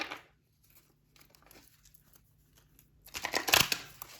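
Soft papery rustles and handling give way to a quick, crackling riffle of tarot cards being shuffled near the end, close and fairly loud.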